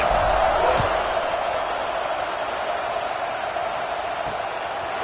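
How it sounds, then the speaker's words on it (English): Stadium crowd in the NCAA 26 college football video game cheering after a scoring drive, a loud, continuous roar that swells at the start and then holds steady. "this crowd is feeling themselves after that last drive"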